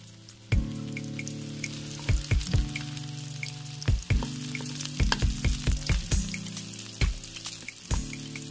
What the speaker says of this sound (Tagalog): Igisa lang itong mga ingredients nito hanggang sa maluto